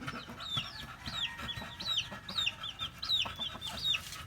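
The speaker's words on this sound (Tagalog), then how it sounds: "ayan na naman ang ating mga manok" A group of chickens clucks close by among guava trees, repeated short rising calls in quick succession over a busy murmur of other fowl.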